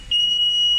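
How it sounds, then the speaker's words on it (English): A bottle filling machine's alarm gives one loud, steady, high-pitched electronic tone that holds for almost a second with no break. It sounds close and sharp over a quiet background. "This alarm now."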